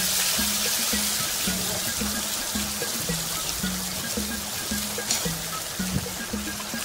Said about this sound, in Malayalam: ഇപ്പോൾ ഇവിടെ ഓയിൽ ചൂടായി വന്നിട്ടുണ്ട്. നമ്മൾ നേരത്തെ ബ്ലെൻഡ് ചെയ്തെടുത്തതൊന്ന് ഒഴിച്ചു കൊടുക്കുന്നുണ്ട്.